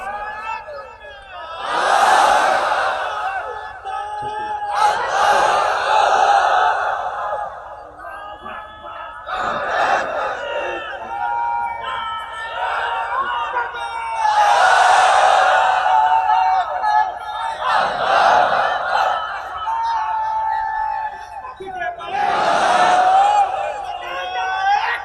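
A large crowd at a religious sermon shouts slogans in unison, loud rhythmic call-and-response bursts repeating every few seconds, with a single leading voice calling out between the massed replies.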